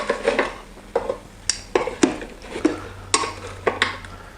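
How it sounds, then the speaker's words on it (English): Metal tongs clack and scrape against an air fryer basket while a whole garlic-seasoned chicken is turned over, a series of sharp, close clinks and knocks at irregular intervals with no talking. "So just with some tongs, I'm just going to get that inside and just carefully flip it over."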